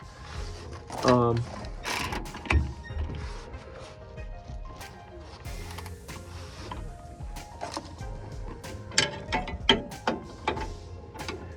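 Ratcheting on a rear shock bolt of a 2001 Ford Ranger during a new shock install, irregular mechanical clicks and clanks close by, with someone talking over much of it.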